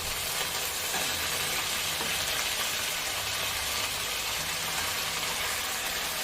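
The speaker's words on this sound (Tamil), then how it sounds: "வெங்காயம் நல்லா வதங்கிட்டு இப்போ இதில் கட் பண்ணி வச்சுருக்கிற கத்திரிக்காயை சேர்த்துக்கோங்க." Eggplant and onions sauté in a pan, giving a steady, close, loud sizzle and hiss of frying throughout, with faint stirring scrapes and no talking.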